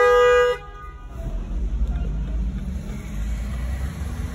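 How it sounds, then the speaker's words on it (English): A car horn blasts in celebration on a South Florida street during a May Day rally, with one loud, steady honk lasting about half a second. After it, the low rumble of traffic and wind carries on to the end. "It's celebratory honking"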